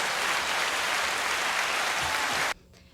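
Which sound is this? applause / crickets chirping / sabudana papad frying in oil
applause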